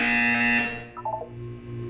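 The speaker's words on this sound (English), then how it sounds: "When you hear the buzzer, look up at the ceiling." A harsh electronic buzzer from the video game Portal 2 sounds steadily for a moment and then cuts off, leaving a few faint electronic blips and a low hum.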